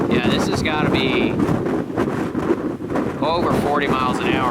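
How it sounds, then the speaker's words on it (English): A strong wind gust of over 40 mph buffets the microphone with a heavy, roaring rumble during a mule deer hunt, loud and continuous, while people talk over it at close range. "over 40 miles an hour, this gust right now"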